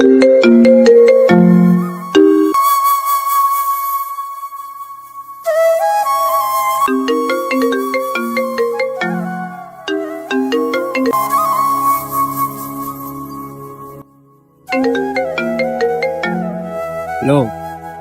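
A mobile phone ringtone plays a bright, loud electronic melody in repeated phrases with brief silent gaps between them.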